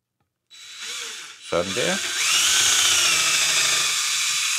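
A cordless screwdriver drill whirs briefly, then spins up to high speed in a steady, close, high-pitched whine after a short spoken word.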